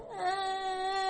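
A little girl cries in one short, sustained wailing sob, fairly close and clear with no other sounds around it.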